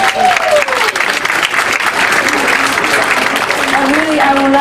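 An audience at a benefit dinner applauds loudly and steadily, a dense wash of clapping from a large crowd that holds for several seconds close at hand, with a voice speaking over it.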